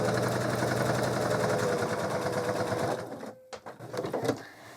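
Sewing machine running steadily while stitching quilt binding to a quarter inch from the edge, a loud continuous whirring hum that stops near the end, followed by a few soft handling clicks and rustles.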